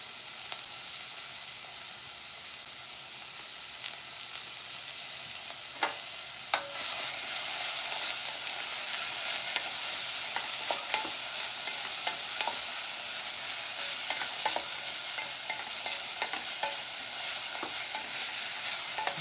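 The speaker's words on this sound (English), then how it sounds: "I'm just kind of stir frying them a little bit before I throw the soup in there" Vegetables being stir fried in a pan, a steady broadband sizzle throughout that grows louder and denser partway through, with occasional sharp clicks and scrapes of stirring.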